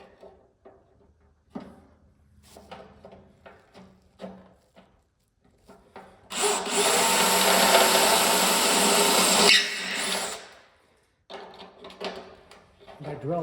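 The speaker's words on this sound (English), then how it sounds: "once I get the first hole drilled" A power drill bores holes into a vehicle fuel tank while fitting a single-line fuel system, giving one loud, sustained whine of about four seconds between quieter clunks and handling noises from the work.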